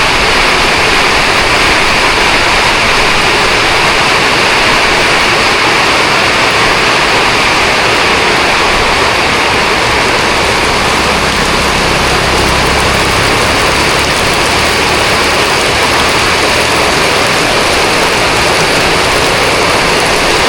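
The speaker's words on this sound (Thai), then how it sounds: "ฝนตก" Heavy rain pours down steadily, a loud dense wash of hiss with a low rumble beneath, continuous and unbroken without talk.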